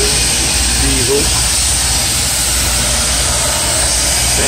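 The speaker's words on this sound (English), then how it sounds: "Traction motor, diesel engine, there's some big motors right there, diesel," A loud, steady rumble of a large diesel locomotive engine running, an ex-Southern Railroad GP38-2 high hood, with a constant hiss over a deep low drone and no pauses.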